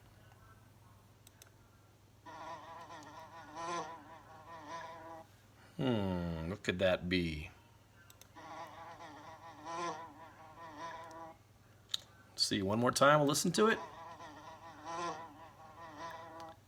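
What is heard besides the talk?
bee buzzing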